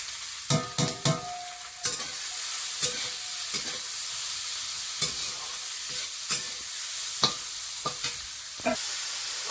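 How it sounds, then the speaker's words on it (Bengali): Prawns seasoned with salt and turmeric fry lightly in oil with chopped garlic, giving a steady sizzle broken by sharp, irregular clacks of a spatula stirring the pan. "চিংড়িগুলো একটু হালকা ভেজে নিয়ে"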